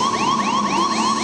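A 1202 program alarm from the Apollo lunar module's onboard computer during a bumpy, violent descent: a loud electronic warbling tone rising in pitch over and over in a steady fast cycle, about four sweeps with no voices.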